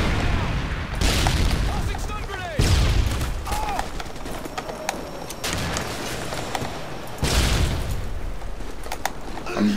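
Repeated heavy booms of a predator missile strike in a first-person shooter game, several loud explosive bursts spaced a couple of seconds apart over constant background gunfire and game noise.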